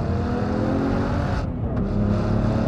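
A Kelleners KS1-RS sports car engine roars and revs hard to about 5000 rpm, a loud continuous growl that dips briefly before climbing again.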